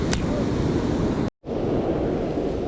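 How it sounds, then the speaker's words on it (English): Dense, steady roar of heavy rain pouring down at a river spillway, loud and continuous, cut by a brief silent gap before resuming just as strongly. "it's pouring down the rain"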